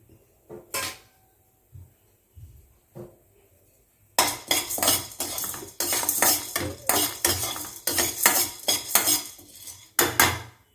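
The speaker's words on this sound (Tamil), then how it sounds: "கடலப்பருப்பு எடுத்திருக்கேன் கடலப்பருப்பு வறுப்படட்டும்" Dry chana dal tossed in a pan: a few scattered clinks at first, then a busy run of rattling, scraping metal stirring strokes that carries on loudly near the end, with no talking.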